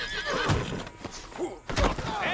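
A horse in the Red Dead Redemption 2 video game neighs and whinnies repeatedly, with loud, wavering cries over hoof clip-clops, stamping and scuffling at close range.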